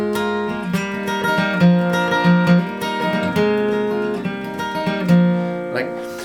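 An acoustic guitar with a capo plays the opening riff of a song: plucked, ringing notes in a short repeating phrase, heard alone and close.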